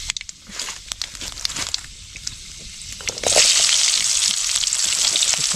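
Onions and tomatoes sauté in hot oil in an outdoor pan while cooking snail curry, a steady close sizzle with scattered crackles and stirring scrapes that swells loud and dense midway and holds to the end.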